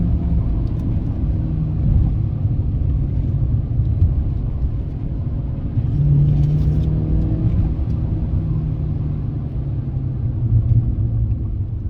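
Suzuki Swift engine pulling under acceleration from inside the car, a continuous loud low rumble with slight rises in pitch and road noise throughout.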